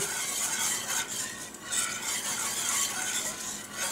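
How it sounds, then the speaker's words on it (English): A spoon stirs a seasoned dish in a pot while cooking a Thanksgiving dinner, giving a steady soft scraping and shuffling with a faint sizzle underneath, continuous and close, with no voices. "Give it another stir."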